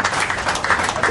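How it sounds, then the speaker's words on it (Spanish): Audience applause at a forum on journalism, a dense, steady patter of many hands clapping together at close range, with no voices heard over it. "por favor, un aplauso"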